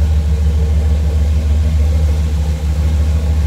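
The rebuilt, bored-over engine of a 1975 Camaro LT runs steadily at a close, loud, deep rumbling idle with no breaks.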